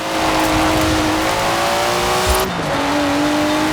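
A Datsun's engine revs hard in Forza Horizon 4, a loud sustained drone climbing in pitch, dropping briefly at a gear change, then pulling up again.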